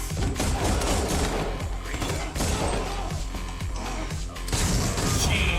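Gunfire from the action film John Wick: Chapter 4, dense rapid bursts and booms layered with crashes and a film score, loud and continuous throughout.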